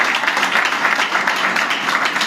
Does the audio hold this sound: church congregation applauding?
yes